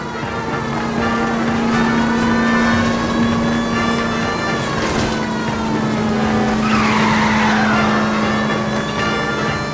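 Tires skid and squeal on a stolen green Kaiser Frazer in an L.A. Noire car chase. A steady engine drone runs throughout, and a sharp screech sweeps in near the end.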